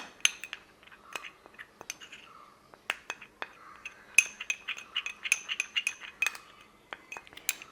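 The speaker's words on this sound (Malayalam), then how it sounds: "പാലുകൂടി ഒഴിച്ചു കൊടുത്തിട്ട് നന്നായിട്ടൊന്ന് ഇളക്കി കൊടുക്കുന്നു" Stirring coconut milk into a corn flour face pack in a small bowl, with a spoon making irregular light clinks and scrapes against the dish, quick bursts up close and fairly quiet.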